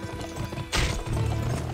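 A horse gallops in the Western video game Gun, its hooves a strong, quick clip-clop that swells into a louder burst partway through and keeps a driving rhythm.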